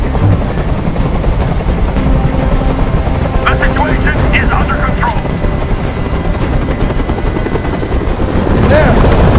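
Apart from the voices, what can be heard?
helicopter hovering, from a video game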